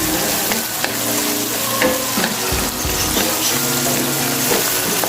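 Tomatoes fry in a hot pan, sizzling loudly and continuously up close while a utensil stirs through them with occasional scraping knocks.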